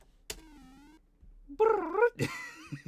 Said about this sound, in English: I made a little cat screech noise with the bloops.